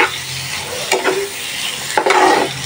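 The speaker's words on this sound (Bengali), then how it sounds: "মশলার সাথে ভালোভাবে মাছটা কষায় নিই" Snakehead fish sizzles in spiced oil as a spatula scrapes and turns it, two or three distinct stirring strokes over a close, steady frying hiss, with no speech.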